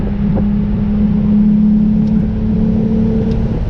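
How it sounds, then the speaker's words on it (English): Car on a winding mountain touge road with the roof off, engine droning steadily near and loud as it brakes and drops a gear, wind rushing over the open cabin. "Brake and a downshift."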